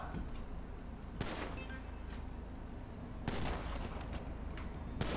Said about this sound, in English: Bro, I'm getting shot.